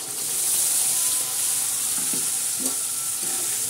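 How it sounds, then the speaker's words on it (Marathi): Masala with red chili sautéed and stirred for a brinjal curry with dried bombil, a steady close sizzle broken by a few spoon scrapes and taps against the pan, no talking. "असं चांगलं हलवून घेणार आहे परतून आणि असं चांगलं हलवून"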